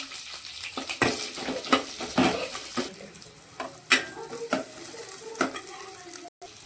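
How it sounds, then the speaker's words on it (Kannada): Chillies and onion frying and being stirred in a pan for okra sabzi, with repeated spatula scrapes and clacks over a steady sizzle, close and moderately loud, no voices. "ಇವಾಗ ಇದಕ್ಕೆ ನಾನು ಮೆಣಸಿನಕಾಯಿಯನ್ನು ಸೇರಿಸ್ಕೊಳ್ತಿದ್ದೇನೆ ಕೊನೆಗೆ ನಾನು ಈರುಳ್ಳಿಯನ್ನು ಸೇರಿಸ್ಕೊಳ್ತಿದ್ದೇನೆ"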